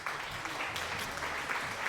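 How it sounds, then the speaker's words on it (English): A round of applause breaks out during a live sculpting stream: a steady, moderately loud patter of many hands clapping, continuing without pause and without voices. "you even got a round of applause"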